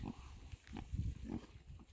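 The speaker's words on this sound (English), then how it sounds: "Those are some pretty happy pigs." Pigs in a field grunt repeatedly in short, low, uneven bursts, close by and steady across the moment, with no talking.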